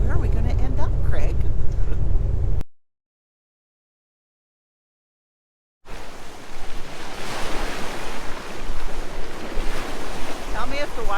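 Ocean waves wash and splash near BC Ferries on Canada's coast amid strong wind buffeting the microphone; talk comes first, then a silent gap, then loud surf and splashing.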